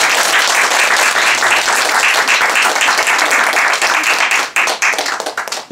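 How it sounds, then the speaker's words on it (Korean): Dense, sustained applause from an audience at a book talk welcoming a Buddhist monk, steady clapping filling the room before thinning into scattered claps near the end. "그럼 여러분 뜨거운 박수로 백연 스님 모시고"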